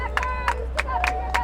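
Scattered clapping from fans at a Memorial Field high school boys' soccer match, Scarsdale at Mamaroneck, with a handful of distinct claps over steady crowd murmur and a low background hum.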